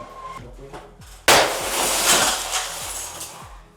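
Tinted glass in a mansion under demolition is smacked and shatters in a sudden loud crash, followed by a bright shower of falling shards that tinkle and scatter for a few seconds.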